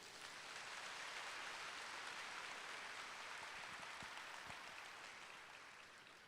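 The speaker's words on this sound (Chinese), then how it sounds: "给你们自己本身出席一个热烈的掌声" An audience at a 2019 regional leadership training conference in Taiwan claps in a sustained, dense burst of applause, steady for several seconds before tapering slightly at the end.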